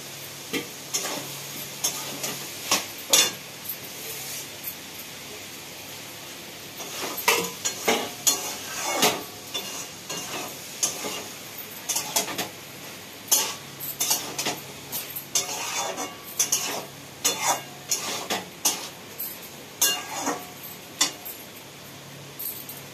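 Potatoes go into a hot pan and get stirred, with sizzling frying under repeated scraping and clinking of a utensil against the pan, busy and close throughout with no talking.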